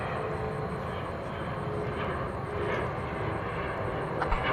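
Airliner jet engines roaring steadily at an airport on a night departure to Birmingham, Alabama, a continuous broadband rumble that swells slightly toward the end, with no talk.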